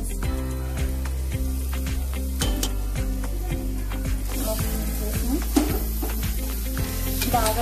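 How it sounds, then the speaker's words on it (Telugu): Mushrooms fry in masala for biryani with a continuous close sizzle, while a spoon stirs and scrapes the pan in a steady rhythm throughout. "ఇదంతటిని బాగా కలిపి ఇప్పుడు మష్రూమ్స్ వేసుకొని కాస్త మగ్గబెట్టాలండి"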